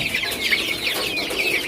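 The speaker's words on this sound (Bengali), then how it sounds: "দেখছেন সবগুলা মুরগির বাচ্চা একসাথে আইছে খাবার খাওয়ার জন্য" Chicks on a Bangladeshi poultry farm crowd in for food, a steady close chorus of high cheeping and clucking that runs without a break and has no talk over it.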